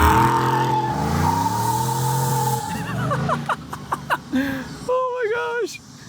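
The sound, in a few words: supercharged Chevrolet Silverado truck accelerating in 2-wheel drive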